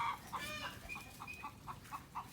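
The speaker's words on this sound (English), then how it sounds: "We got our flock out. We got about 3 dozen chickens out" A flock of chickens clucks repeatedly in a quick, uneven rhythm, close by and fairly clear.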